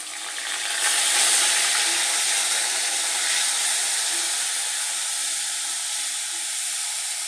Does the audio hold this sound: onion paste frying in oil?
yes